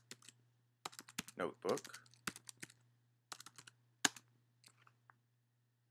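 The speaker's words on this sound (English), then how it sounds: "Now what I can do is I can simply type IPython" Computer keyboard being typed on in scattered quick clicks with pauses, close and fairly quiet, while a person speaks briefly over a steady low hum.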